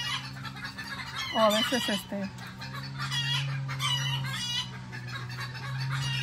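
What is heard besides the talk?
chickens clucking and making a racket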